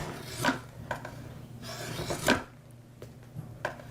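Hand tool rasping along a wooden spindle as it is tapered to about 5/16 inch diameter, with several close scraping strokes at an uneven rhythm over a steady low background hum.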